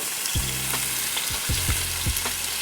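Steak searing in a hot skillet for chili garlic steak noodles, a steady close sizzle and fry with a few soft low thumps as pieces are moved or set down, no voices.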